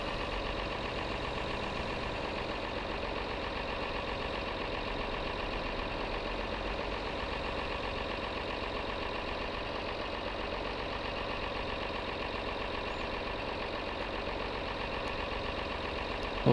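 A tractor in Farming Simulator 22 idles with a continuous, steady engine drone and hum that stays loud and unchanging for the whole stretch, with no voices.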